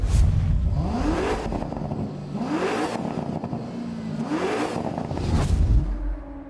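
A Toyota Gazoo Racing GR GT, a front mid-engined, rear-wheel-drive V8 sports car, revs hard on track in about four climbing pulls, each rising then dropping at a gear change, loud and close, with no talking.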